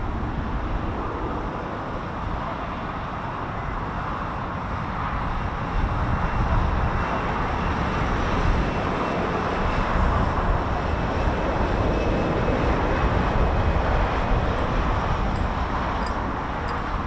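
Military jets at RAF Waddington, with RCAF F-18 Hornets and Red Arrows practising, roar steadily in a broad, sustained rumble that builds slightly and holds loud for the whole stretch, with no talk over it.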